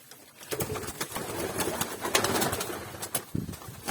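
Pigeons, including a Hünkari breed, coo softly amid rustling and flapping noises close by, with scattered clicks and shuffling throughout.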